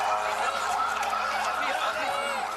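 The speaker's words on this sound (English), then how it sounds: "the sounds of sirens" Several wailing emergency sirens overlap and rise and fall continuously after airstrikes, moderately loud and somewhat distant, with no voices.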